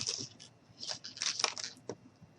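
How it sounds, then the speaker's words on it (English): Scissors snip through aluminum foil while a small gnome figure is being made, giving a few quiet crinkling crunches and cuts in short bursts, close by. "Now I'm going to take my scissors,"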